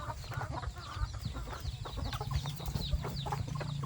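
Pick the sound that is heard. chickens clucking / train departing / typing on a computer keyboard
chickens clucking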